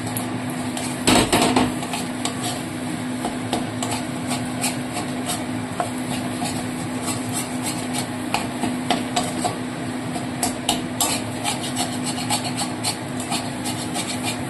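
Food being stirred in a pan just after a sprinkle of black pepper, with steady scraping and rubbing strokes that repeat through the clip, a louder clatter near the start, and a faint sizzle underneath.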